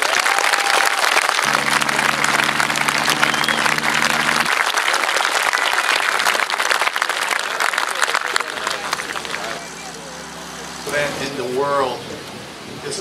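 Crowd at an outdoor World War II reenactment battle event in Rockford, 2012, giving sustained applause for veterans, a dense steady wash of clapping with a low droning hum in places and a voice speaking near the end.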